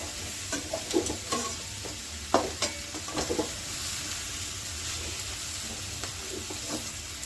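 Spicy kachki fish chochchori frying in a pan while being stirred: a steady sizzle with scattered scraping clicks and spatula knocks, close up, with no talking.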